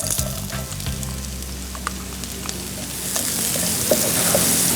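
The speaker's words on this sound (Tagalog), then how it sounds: "Magsusutay tayo ng onion." Chopped onion sizzles and fries in a hot pan, a steady crackling sizzle with a few stirring clatters and scrapes, close and clear with no talk.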